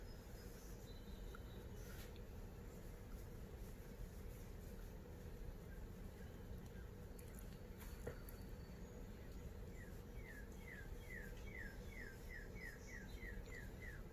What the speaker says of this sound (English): you can hear the birds chirping in the back there